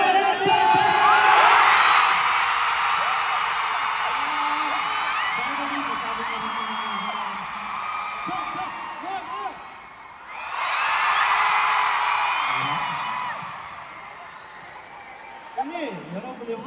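Fan concert audience at a Philippines fancon, loud cheering and whoops that swell, fade under talk, then surge again around the middle before dropping back beneath speech.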